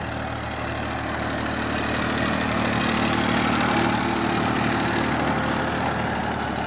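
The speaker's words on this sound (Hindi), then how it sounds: "ये ट्रैक्टर आ चुका है, बहुत बढ़िया हकई कर रहा है ये।" Massey Ferguson 1035 DI 40 HP tractor running while ploughing a field, a steady diesel engine drone with a low, even throb that holds constant throughout, moderately loud and without speech.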